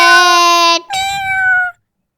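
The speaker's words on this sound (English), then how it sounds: "cat" A cat gives a loud, close two-part meow, a drawn-out tonal call followed by a second falling cry, then silence.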